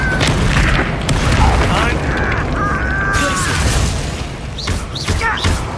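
A Confringo fire spell blasting in Hogwarts Legacy, heavy booming impacts and crackling bursts under a loud game soundscape, with a voice speaking over part of it.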